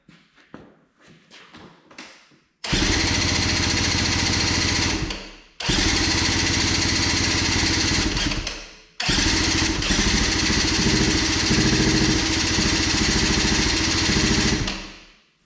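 A 2003 Arctic Cat 90 youth ATV under carburetor repair sputters through a few short attempts, then catches and runs loudly three times, its engine droning steadily before cutting out between runs.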